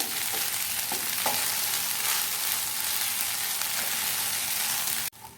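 Rice for egg tava pulao being stirred and mixed in a hot pan, a steady sizzling hiss with occasional scraping clinks of the spatula, continuous and close until it stops abruptly.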